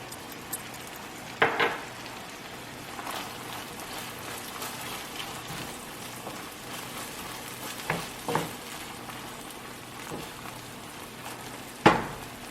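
Seasoned beef for empanada filling fries in a pan with a constant rain-like sizzle, and occasional utensil scrapes and knocks rise above it.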